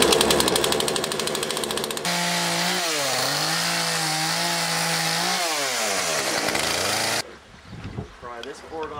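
A chainsaw trims the nubs off a storm-felled cedar pole harvested on an island for a porch repair, its engine loud and close, revving up and down as it cuts before cutting off and leaving quieter knocks.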